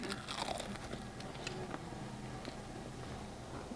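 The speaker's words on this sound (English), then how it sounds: "so when you bite into it though, too, you're gonna have the yuca" Someone bites into stuffed crispy shrimp with yuca and tartar sauce, a few close, quiet crunches followed by soft chewing, with no talk over it.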